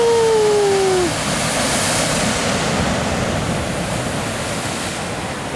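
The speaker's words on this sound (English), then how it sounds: "See that swell?" Ocean swell rolls against the rocky shore at Peggy's Cove on a calm, non-windy day, a loud continuous broadband wash of surf with some wind rumble, starting with a brief tonal whine.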